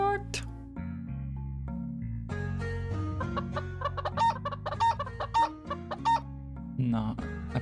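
A hen clucks repeatedly in a video game, a run of short, bright clucks mixed with music-like tones, while a person talks over it.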